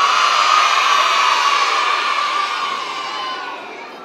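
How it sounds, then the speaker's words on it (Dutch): A crowd of children at a kids' party in Zwolle shouts a name together in one long, loud, sustained chorus that slowly fades toward the end. "als jullie 1 keer voor mij heel hard Jane willen roepen"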